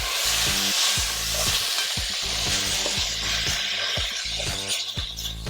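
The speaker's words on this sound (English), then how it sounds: "You wanna start breaking up the beef as much as you can" Two pounds of ground beef frying loudly in a pan, a steady close sizzle broken by regular scraping thumps as a utensil chops and breaks the meat into small pieces.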